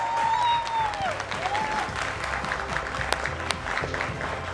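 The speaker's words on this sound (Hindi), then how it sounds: "एक बार फिर तालियां हो जाए।" A television studio audience claps loudly for a guest on a Hindi news talk show, a dense burst of applause that fades to scattered claps, with a faint voice briefly heard.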